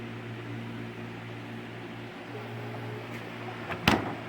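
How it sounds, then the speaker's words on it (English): Steady low mechanical hum of a microwave oven running in a tiny home, a constant drone close by, broken near the end by a brief sharp click. "Runs the microwave."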